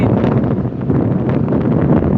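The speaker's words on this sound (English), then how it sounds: "it is so windy" Strong wind buffeting a microphone outdoors on a morning walk, a steady broadband roar with gusty swells and no pauses, loud and close throughout.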